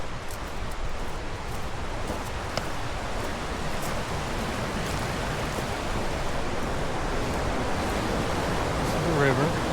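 A river on the Pacific Crest Trail near Lone Pine rushes steadily as a broad, constant wash of water noise, close and even throughout, with no voices.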